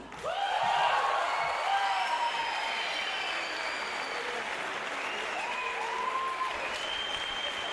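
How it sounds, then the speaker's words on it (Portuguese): Audience applauding poet Antônio Marinho after a recital at a cultural evening in Afogados da Ingazeira, a steady sustained clapping from a crowd that swells early and holds for several seconds. "Aplaudir aí então o poeta Antônio Marinho"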